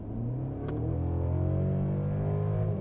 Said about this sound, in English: let's just floor it. I'm in sport mode